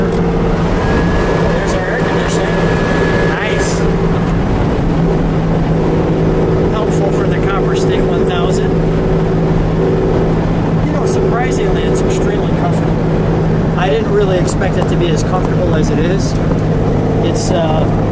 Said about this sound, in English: When the Jaguar's growling, Randy, it's best I'm not talking.